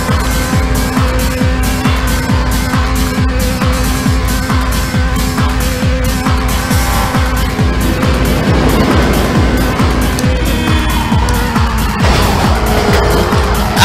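Race car engine roaring loud and steady as nitrous boost kicks in during a Midnight Club II street race in Tokyo, with tire squeal and skidding noises layered over the continuous, driving game soundtrack.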